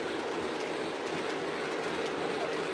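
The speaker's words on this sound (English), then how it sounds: "And then this is just some of the other trains I have going on here." Lionel and MTH model trains, Conrail-themed, running on a home layout, giving a steady close rumble of wheels and track with faint clickety-clack throughout and no pauses.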